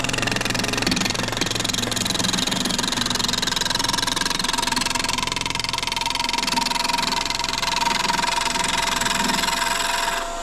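Continuous rough, rumbling drone of a wood lathe turning an uneven wooden blank for a snowman Christmas decoration, steady and loud throughout with a bumpy, knocking texture and no voices.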